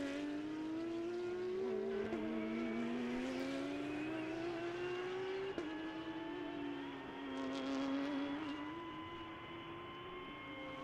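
A Lamborghini race car at Sebring brakes into a corner and races on, its loud, steady engine note sliding down and back up in pitch.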